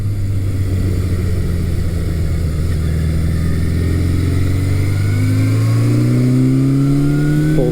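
A 1982 Suzuki GS750E motorcycle engine, still warming up on a test ride, drones loudly and close, then its pitch climbs in a rising rev toward the end.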